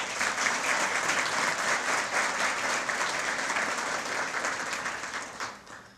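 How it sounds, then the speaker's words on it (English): An event audience at a hall of fame ceremony applauds a corporate sponsor: sustained, dense clapping from a sizable crowd fills the room at steady loudness, then tapers off near the end. "Let's give them a round of applause."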